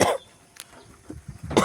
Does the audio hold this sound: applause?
no